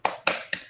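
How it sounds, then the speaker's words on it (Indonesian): A school class in Indonesia performs a tepuk hebat clapping chant, heard as three sharp, evenly spaced claps about a quarter second apart, close and crisp with no voices. "Kita tepuk hebat untuk kelompok 4."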